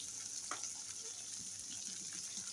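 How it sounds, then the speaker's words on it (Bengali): Chopped onion sizzles faintly in hot oil in a home kitchen pan, a soft continuous crackle with a few small pops and the occasional stir. "পেঁয়াজ কুচিটা আগে একটু ভাজা ভাজা করে নিই।"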